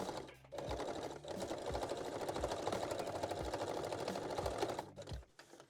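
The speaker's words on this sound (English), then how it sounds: "I am using just a straight stitch and I'm going like 2 or 3 times forward and backward" A domestic sewing machine runs a straight stitch forward and backward over a bra strap, a steady, close, rapid mechanical whirr lasting several seconds with brief pauses at the start and end.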